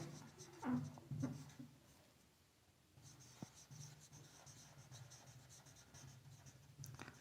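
Pen writing out a maths solution on paper, soft close scratching strokes in short bursts with quiet pauses between.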